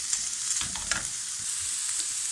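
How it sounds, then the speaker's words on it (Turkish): Onions sauté in a pan for a chicken filling, giving a close, steady sizzle and frying crackle broken by a few soft stirring scrapes, with no voices. "Evet şimdi artık soğanlarımızı ekliyoruz. Biraz kavuracağız."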